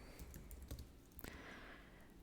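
Someone types a short command on a computer keyboard: a quick, quiet run of close key clicks with one firmer keystroke near the end, then a soft hum.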